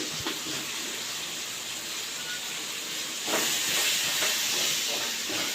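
Ground chili powder, coriander powder and spices sauté in hot oil for a side dish, a steady close hiss of sizzling that grows louder and crackles more partway through.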